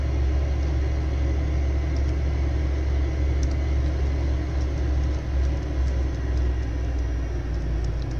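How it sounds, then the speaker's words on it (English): A vehicle engine runs steadily with a loud, continuous low rumble close by, holding an even idle-like drone throughout with no talking. "I just love the engine sound."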